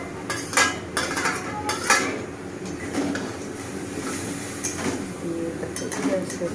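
Fried brinjal pieces go into a pan of bubbling spice mix for a vegetarian dish and get stirred, with close metal utensil clatter and scraping over a low background hiss.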